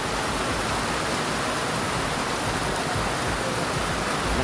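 Heavy rain pours down in Quezon City, a dense, loud, unbroken hiss of falling water that fills the whole stretch without pause.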